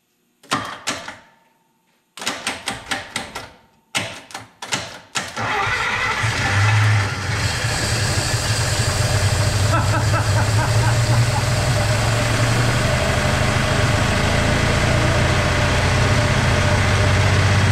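A 1949 Pontiac engine, previously stuck, cranks in a few short bursts, then catches and settles into a loud, steady idle with a rough rumble.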